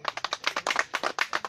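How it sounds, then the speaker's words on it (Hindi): Village children clap their hands at an Independence Day flag celebration, about a dozen quick, uneven claps close by in an irregular rhythm, with no voices over them. "हाँ ताली बजाओ"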